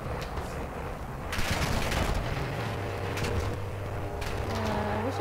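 Turret gunfire in the DMZ video game, bursts of rapid mechanical shots and distant fusillade under a steady engine-like hum, moderately loud with several clusters of fire.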